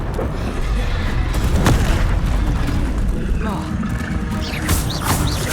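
A Confringo blasting spell in Hogwarts Legacy erupts in booming, explosive bursts amid continuous combat noise, loud and close, with a sharp crack early on and a voice audible beneath.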